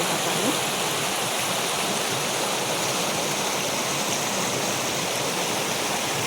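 Water runs steadily through a wheat field being weeded by hand. The flow gives a loud, continuous rushing hiss from start to finish and is heard alone, with no break.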